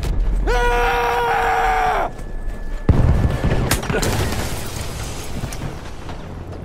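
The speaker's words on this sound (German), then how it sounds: "Ich werfe eine Granate!" A grenade explodes in a German-language war video game, a sudden loud blast that follows a shouted voice and leaves a rumbling, crackling battle din behind it.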